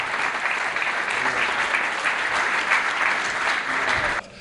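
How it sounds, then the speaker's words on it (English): Sustained, dense applause from a conference audience welcoming a panel at a TiE event, loud and steady throughout before cutting off abruptly near the end. "I seek your engagement with a loud, thunderous applause"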